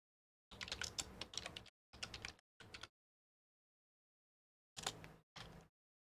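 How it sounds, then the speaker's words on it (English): Fingers type on a computer keyboard in short bursts of quick key taps separated by silent pauses, close and clear with no voices. "My typing is horrible"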